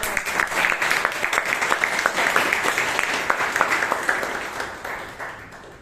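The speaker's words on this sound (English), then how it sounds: "can we have a huge round of applause?" Audience applause at a Toastmasters club meeting in Bangalore, a dense steady clapping from many hands that holds strong for several seconds before thinning and fading toward the end.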